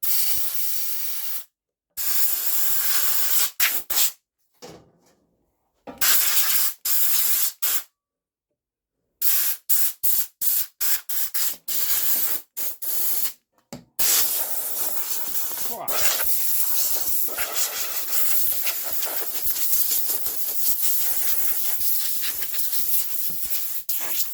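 Loud bursts of compressed air hiss in repeated short blasts with brief gaps, then settle into a long continuous blowing.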